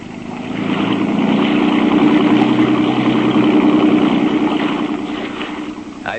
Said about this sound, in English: I took a motorboat out to Elliott's yacht anchored offshore